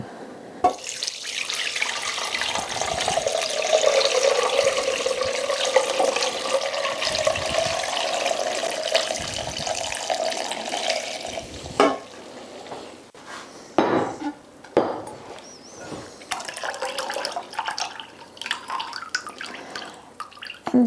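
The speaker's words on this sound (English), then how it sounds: "Now we're gonna just pour the apple cider vinegar." Apple cider vinegar pours steadily in a continuous splashing stream for several seconds, then stops, followed by a few clinks and drips.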